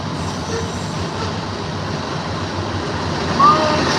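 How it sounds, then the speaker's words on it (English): A loud train passes near a fishing and camping spot, a constant heavy rumble of wheels on track with a brief high squeal near the end, drowning out the surroundings. "This train's so loud."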